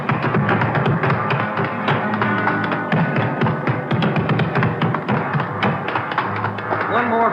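Several people's footsteps running up stairs in a radio crime drama, a rapid, loud, continuous clatter of taps and thuds with talk over it.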